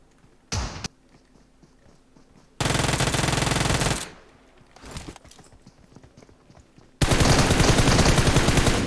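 PUBG gunfire comes in dense automatic bursts, loud and close, with two long rapid volleys and a few shorter shots between quieter stretches.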